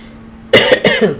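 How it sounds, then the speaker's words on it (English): Two quick, close coughs in a row, sharp and loud against a quiet background. "Sorry about the cough."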